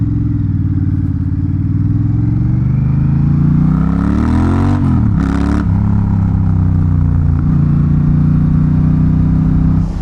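A loud, close Honda Rebel 1100 motorcycle engine with no muffler and a raw growl revs up sharply, drops briefly, then settles back into a steady heavy rumble.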